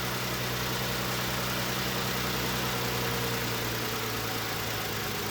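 A car with a charging fault idles steadily nearby, a constant low engine hum and vibration with no talk over it.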